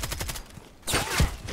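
Rapid shots in an online multiplayer shooter, a quick run of fairly close pops followed by a louder crack and a heavier blast, no one speaking.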